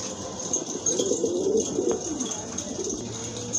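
A pair of Lahori pigeons coo in low, soft, rolling murmurs that run steadily for several seconds, close by and with no talking over them.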